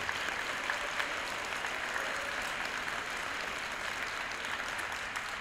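An audience at a school committee meeting applauds steadily for about five seconds, a dense, even patter of clapping with no talk over it.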